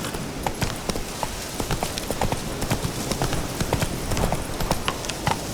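In The Witcher 3, a horse's hooves clip-clop in a steady, fairly fast rhythm across the whole stretch. The sound is close and continuous, with no talk over it.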